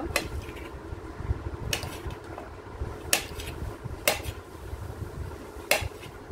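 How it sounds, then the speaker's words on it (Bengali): Knife or boti blade chopping through taro stolons (kochur loti), five sharp cuts spaced about a second apart against a board, close and clear over a low steady background hum. "তো এটা চাকুর সাহায্যে কাটা যাবে, আবার আপনার বটির সাহায্যে এটা কেটে নেওয়া যাবে।"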